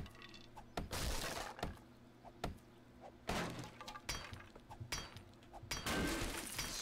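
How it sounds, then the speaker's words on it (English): A door is smashed in the survival video game 7 Days to Die, a run of repeated sharp cracking and splintering impacts at irregular intervals, loud and near, with low ambient rumble between blows. "Smashing our way through a door."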